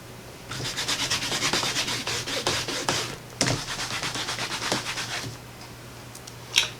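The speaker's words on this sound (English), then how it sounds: "So let's clean off our stamps." Rubber stamps being scrubbed clean on a Stampin' Scrub pad: rapid, loud rhythmic rubbing strokes in two bursts separated by a short pause, with no voice.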